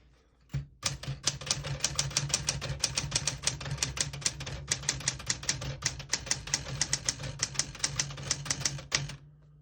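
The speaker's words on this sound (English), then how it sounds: "I'll type a sentence in red on the next line." Rapid, evenly paced key strikes from a 1974 Smith-Corona Classic 12 portable typewriter typing a line in red ribbon, crisp close clacks in a steady run lasting about eight seconds.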